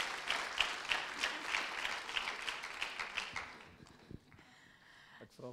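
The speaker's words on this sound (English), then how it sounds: "would you please also honor them and give them a good hand clap?" A church audience claps for a pastor's family, a dense patter of many hands that fades after about four seconds, leaving a few scattered claps and quiet room sound.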